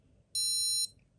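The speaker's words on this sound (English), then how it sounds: "That's the alarm." A 1984 Casio game watch sounds its alarm: a single high, thin electronic beep lasting about half a second, clear and close against near silence.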